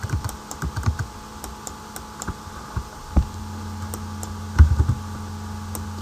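Data is typed into a computer keyboard: scattered, uneven key clicks and taps, some in quick bursts, others singly, with louder thumps near the end, all close and clear over a faint steady hum.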